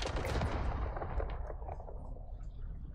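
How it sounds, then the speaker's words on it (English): A cruise missile strike in a Call of Duty Hardcore Search and Destroy match lands as a loud, heavy explosive blast with rumbling low booms and crackling debris, dying away over about three seconds with no voices. "Popping up my cruise missile as well."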